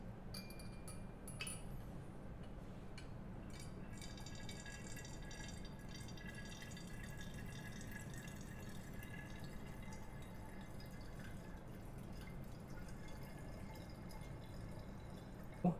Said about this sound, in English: We will increase the volume with distilled water until it reaches 1 liter.